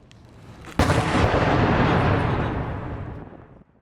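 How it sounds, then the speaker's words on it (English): A sudden, thunderous blast of outgoing artillery and rocket fire on the Bakhmut front in Ukraine, its rumbling roar rolling on for a few seconds before fading out. "The noise of outgoing artillery and rocket fire is deafening."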